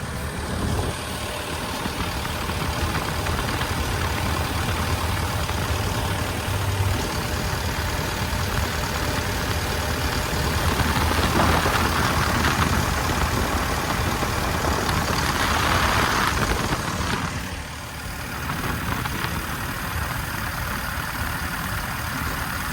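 A steady diesel engine of a 12-ton Kubota K-135US-3 excavator idles close by, a constant low rumble with a brief dip in level near the end.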